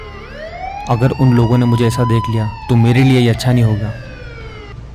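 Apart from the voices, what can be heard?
police siren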